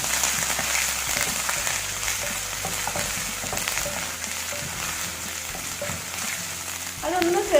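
Crushed ginger sizzles in hot oil for a creamy chicken curry, a dense continuous crackle with irregular stirring scrapes throughout and a brief louder metallic clink at the very end.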